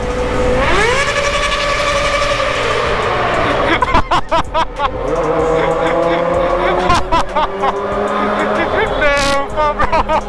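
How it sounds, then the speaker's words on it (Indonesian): Kawasaki ZX motorcycle engines revved hard in a street crowd, repeated sharp throttle blips and rising howls with crackling bursts, loud and close, while people chatter and shout in the background. "Si Deva geber-geber nggak mikir-mikir bro"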